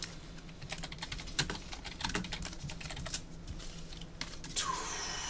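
Fast, irregular clicking of keys being typed on a computer keyboard, close and fairly quiet, continuing without pause and with no speech.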